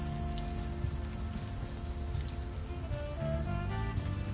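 Steady rain pouring in the video game Unavowed, a dense, even hiss of drops on surfaces under a soft sustained musical drone, with no voices.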